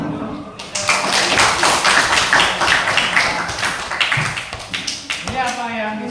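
Students clap together in a classroom, producing a dense burst of applause that lasts several seconds before trailing off as a voice begins.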